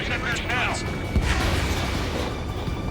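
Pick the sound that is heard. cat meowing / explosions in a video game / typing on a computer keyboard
explosions in a video game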